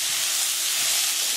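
Mixed vegetables hiss in a hot pan while being sautéed, a steady, close, broadband sizzle with no break and no voices.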